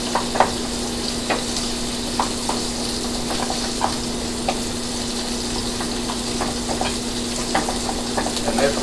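Egg cooking in a frying pan, a steady dense sizzle with scattered pops and crackles and a low constant hum underneath, close and continuous with no voices.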